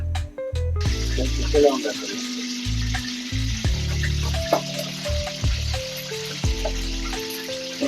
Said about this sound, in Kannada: ಎಣ್ಣೆ ಕಾಯಬೇಕಂದ್ರೆ ಈರುಳ್ಳಿ ಹಾಕಿದ್ರೆ ಆಯ್ತು